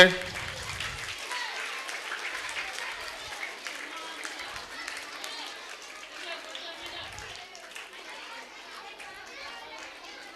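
A crowd at a Vellore municipal middle school annual day claps in a dense, fairly even patter that slowly thins, with children's chatter and murmuring mixed underneath.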